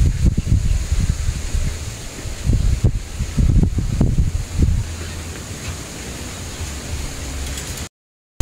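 Strong wind buffets the microphone outdoors in Imelda's Garden, a loud continuous rumbling roar with gusty surges that eases toward the end before cutting off.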